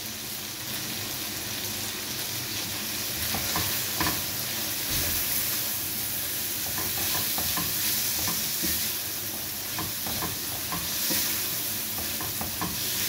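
Beef cubes frying in a pan with ginger and garlic, a dense continuous sizzle with frequent small crackles and occasional stirring, close and even throughout.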